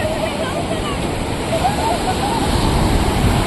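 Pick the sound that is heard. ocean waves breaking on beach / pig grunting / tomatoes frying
ocean waves breaking on beach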